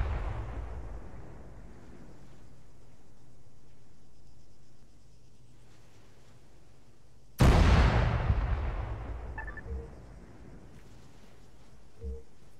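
Artillery fire and an explosion in a tank combat video game: a single sharp, heavy blast booms out suddenly partway through over a low rumbling background, then decays into a rolling tail with a few faint distant pops afterward.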